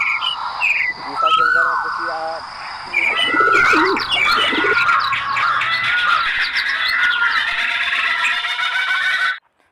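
Bird call samples triggered from a mobile octapad patch: cooing pigeon or dove sounds, chirps and squawks layered into a dense, loud, continuous chorus that cuts off abruptly at the end, with a brief voice near the start.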